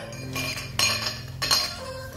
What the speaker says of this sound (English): So we're gonna need a frozen glass